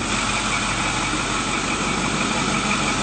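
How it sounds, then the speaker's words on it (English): A 2010 Ford F-250 Super Duty's 6.4L diesel engine idles steadily, a constant broad mechanical drone with an even, unchanging hum throughout. "And under the hood, a nice clean engine bay, running very smoothly."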